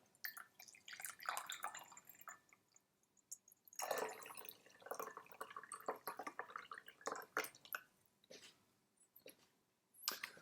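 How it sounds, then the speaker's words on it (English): Hot brewed Karigane green tea is poured out of a vessel in quiet trickles and drips, close and uneven, with small splashes and pauses between bursts. "And then I'm going to pour the hot brew out."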